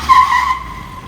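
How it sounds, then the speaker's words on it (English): A car climbing the steep entrance ramp of a Mitsukoshi mall in BGC, Philippines, gives a loud, close tire squeal with engine strain that fades after about half a second into a steady lower hum. "A lot of cars are struggling to actually come up here."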